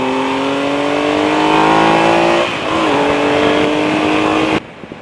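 A Triumph Explorer XC motorcycle engine accelerates hard and loud, its pitch climbing steadily, dipping at a gear change, climbing again, then cutting off abruptly.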